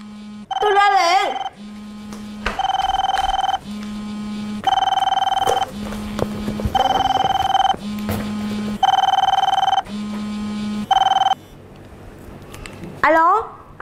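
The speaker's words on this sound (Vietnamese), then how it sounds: "có điện thoại" A home telephone rings in a repeating electronic pattern, loud and close, alternating a low tone with a higher warbling ring over several cycles, with brief rising vocal sounds at the start and end.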